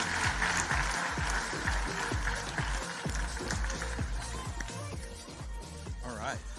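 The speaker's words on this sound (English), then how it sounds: "let's give a round of applause to Brant Stanridge" Audience applause for Brant Stanridge, Huntington Bank president of Consumer and Regional Banking, at the Hope Global Forums 2024, running steadily for several seconds beneath loud, beat-driven walk-on music that partly masks the clapping.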